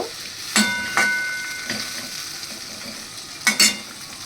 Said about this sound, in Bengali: এবার 2-1 সেকেন্ড একটু নাড়াচাড়া করে নেব